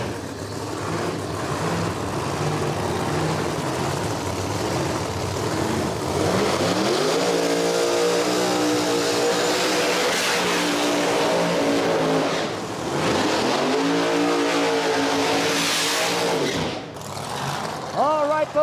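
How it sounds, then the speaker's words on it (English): No-prep drag race cars roar at Beech Bend Raceway Park during burnouts, engines revving and rising in pitch in repeated surges, loud and close, while an announcer talks over them. "Those cars have finished up their burnouts."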